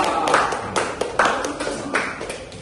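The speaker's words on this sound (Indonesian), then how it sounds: "Oke, tepuk tangan dong." Students in a classroom clap for a group that has just finished a presentation, giving a few scattered, moderately loud bursts of hand claps with voices over them.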